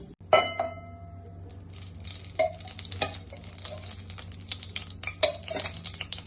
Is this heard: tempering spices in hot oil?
yes